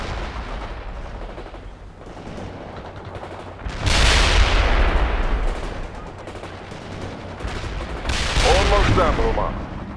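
Gunfire and artillery from the video game World in Conflict rumble continuously, with two heavy bursts of explosive fire swelling loud around four and eight seconds over a constant battle din; voices and radio chatter mix in.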